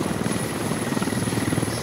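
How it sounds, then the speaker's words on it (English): Helicopter rotor thumping steadily in a military shooter game as the aircraft hovers and pushes toward a wood line, a continuous loud rhythmic chop with no one talking. "Helicopter pushing up towards the wood line."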